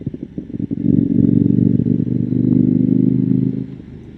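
A KTM Duke 890R motorcycle rides along forested Bay Area backroads, its engine a steady loud drone with low rumble and clatter that swells after a second and holds before easing off near the end.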